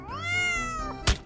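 Cat meowing in a Minecraft game, a long drawn-out harmonic meow followed by a brief louder burst near the end, heard alone without talk.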